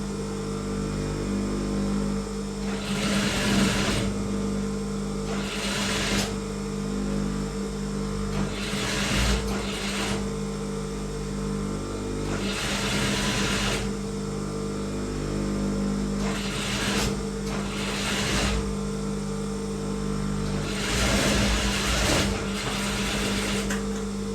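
A sewing machine stitches a belt strip onto a pair of trousers, running in repeated bursts of motor whirr and needle chatter separated by short pauses, close and steady in level.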